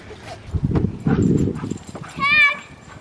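A dog romps through a game of tag with children and gets grabbed by the tail, with scuffling and a brief high whine near the end, all beneath steady chatter from people nearby.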